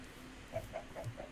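Chickens clucking in a Minecraft modpack colony: a few soft, short clucks in quick succession, faint and somewhat distant over a quiet background hum.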